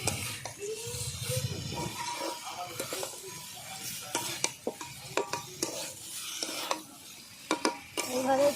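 Spiced cauliflower stems with potatoes and beans fry in a pan as a spatula stirs and scrapes, a close crackling sizzle punctuated by repeated clinks and knocks against the metal.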